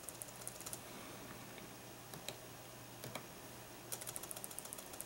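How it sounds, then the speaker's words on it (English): Someone types a password on a Mac computer keyboard: soft, scattered keystroke clicks, with a short flurry at the start and another near the end, faint and close against a quiet room. "Just type in the password"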